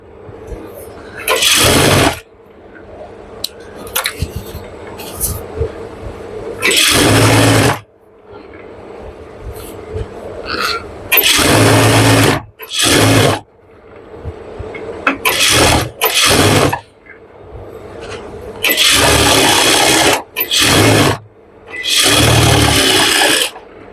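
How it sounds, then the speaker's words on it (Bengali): A sewing machine stitches a pajama, running in several loud, close bursts of a few seconds each separated by pauses, with a person talking in between the bursts. "তো মুখে মুখে একটা সেলাই দিয়ে নিলাম"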